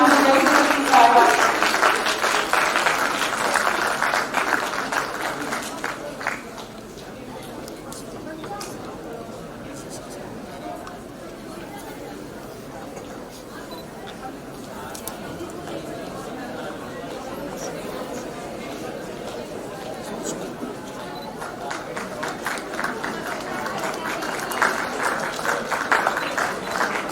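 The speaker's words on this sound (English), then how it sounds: "A round of applause to them, please." Audience applause and clapping from students at an Indian Army national quiz semi-final, loud at the start, fading into crowd murmur and chatter, then swelling again toward the end.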